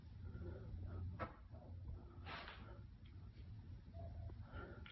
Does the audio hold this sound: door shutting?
yes